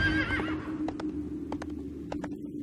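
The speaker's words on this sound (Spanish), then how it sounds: "Caballito y para adelante." A horse mount in the online fantasy game Drakensang Online gives a loud whinny, then its hooves clop in quick pairs at an even trotting rhythm over a low steady game ambience, with no speech.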